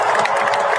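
An audience cheers and applauds, a brief, steady wash of clapping and shouting voices.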